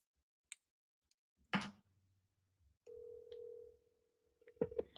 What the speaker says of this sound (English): Let's see if Zach picks up the phone